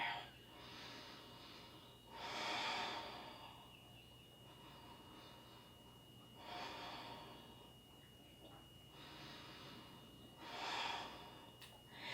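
Slow, deep breathing during a yoga shoulder stand inversion, with three long audible inhale-exhale swells spaced a few seconds apart, close and fairly quiet over a low steady hum.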